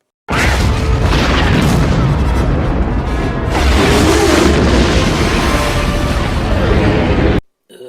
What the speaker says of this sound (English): Detonation is cutting itself short! Get behind cover now!